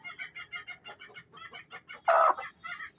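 Domestic chickens cluck in quick repeated bursts close by, with one louder squawk partway through; no talking.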